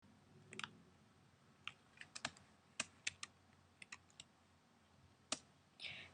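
Sharp, separate keyboard key clicks from keyboard shortcuts pressed while drawing in Toon Boom Harmony 11 animation software, sounding quiet and close in an otherwise still room with no talking, some keys struck alone and a few in quick pairs.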